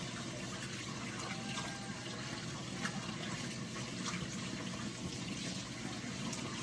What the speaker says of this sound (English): I'm gonna go ahead and wash my hands real quick.